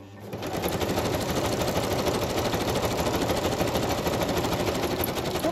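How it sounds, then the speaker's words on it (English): A sewing machine stitches across a layered envelope journal page, starting up and then running in a loud, fast, steady mechanical chatter close by, with no talk. "I'm going to stitch across there and I'll stitch across there."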